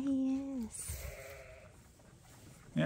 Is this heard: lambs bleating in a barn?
yes